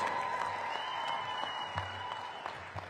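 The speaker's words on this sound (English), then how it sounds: "So give them a round of applause." Steady applause from a crowd, a dense patter of clapping that carries through with slight swells, no voices standing out.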